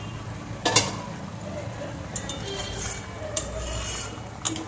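Lid lifted off a cooking pot of raw-banana kofta: a sharp metallic clink close by, followed by lighter taps and clatters of utensils over a low sizzle.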